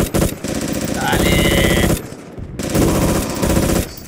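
Bursts of MG34 machine gun fire in the military shooter game Project Reality, two long sustained volleys split by a brief pause, loud and close.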